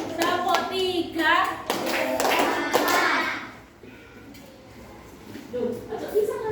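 A class performs a three-clap cheer, several sharp rhythmic hand claps close by amid children's voices, then the room quiets to softer chatter.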